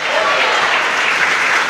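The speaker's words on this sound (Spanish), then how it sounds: "Dale un fuerte aplauso al Señor en esta mañana." A church congregation gives a loud burst of applause during a Spanish-language morning service, dense continuous clapping close up for under two seconds.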